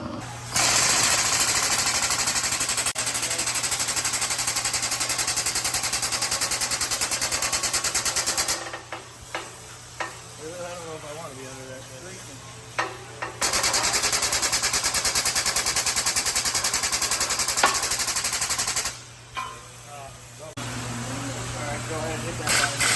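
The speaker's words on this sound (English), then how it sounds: "Now we're going to try hydraulic pressure." A loud, rapid hammering hydraulic or pneumatic tool pounds on a frozen suspension bolt and bushing in a repair shop, running in long bursts that stop and restart, with voices talking during the pauses.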